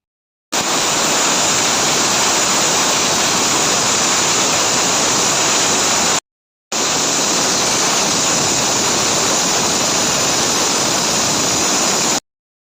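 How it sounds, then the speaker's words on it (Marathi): A small pressure cooker holding a glass of water, with chopped bottle gourd, tomato, onion, potato, garlic and ginger for soup, gives off a loud, steady rushing hiss of escaping steam in two long bursts separated by a brief pause, with no talking. "झाकण लावून दोन शिट्ट्या करून घेते"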